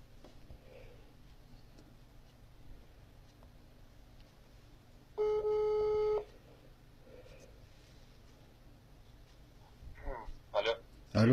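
A telephone call tone sounds on an outgoing call: one steady electronic beep about a second long, loud and close, between quiet stretches, followed by a few brief clicks and breaths.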